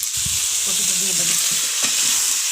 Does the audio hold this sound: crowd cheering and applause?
no